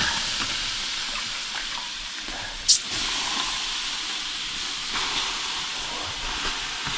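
Water thrown onto hot stones in a Russian banya at a forest cabin by a river sends up a steady, even hiss of steam, with one brief sharp click partway through.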